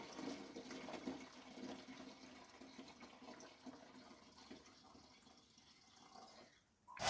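Petrol pours from a can straight into the fuel tank of a lawn tractor, a faint, close trickling and gurgling of liquid that tapers off before a brief knock at the end.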